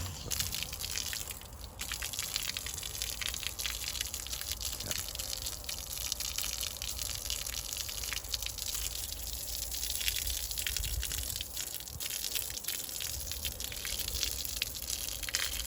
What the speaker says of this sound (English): I really don't get too upset though when I have to dump all this water out, or if it leaks over the top of the watering can